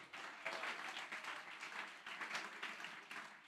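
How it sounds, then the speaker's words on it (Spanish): A church congregation applauds during a Spanish-language sermon, a full, steady wash of clapping that runs evenly throughout with no talking. "Dele ese aplauso a Él."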